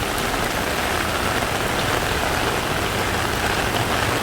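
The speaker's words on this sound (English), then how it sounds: "it's raining a lot and there's a lot of water coming down now" Heavy rain falls on a Bangkok street near Nana BTS during a thunderstorm, a loud, unbroken wash of drops hitting pavement and surfaces, steady throughout with no voices.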